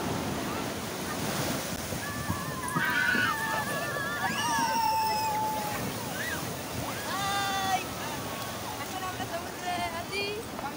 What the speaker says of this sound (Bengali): সমুদ্রের ঢেউ দেখছি আমরা।